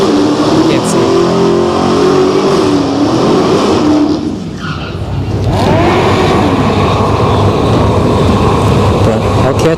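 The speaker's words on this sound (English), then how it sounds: "So it looks like we got a Hellcat and a Camaro." A Dodge Hellcat Challenger and a Camaro rev loudly at a drag strip, engines roaring and climbing in pitch, dipping briefly and then surging again, with a voice talking over them.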